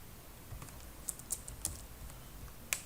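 Quiet, irregular clicks of keys being typed on a computer keyboard while entering a file name in a Python IDE, with a few sharper keystrokes standing out over a faint background hum.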